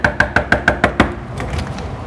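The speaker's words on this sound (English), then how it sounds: "I'm going to knock on the door." Knuckles rap on a door in a quick run of six or seven sharp, evenly spaced knocks, loud and close, followed by quieter room sound.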